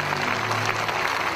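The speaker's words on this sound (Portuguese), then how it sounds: "Vamos aplaudir a Jesus" A church congregation applauds in a dense, steady burst of many hands clapping together, loud and continuous over a low hum.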